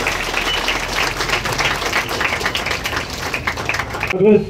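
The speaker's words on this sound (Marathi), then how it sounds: "जोरदार टाळ्या वाजवूयात या कौतुकासाठी" A crowd claps to celebrate students' achievement, a brisk, moderately loud burst of applause from many hands that breaks off abruptly at the end, with voices briefly heard.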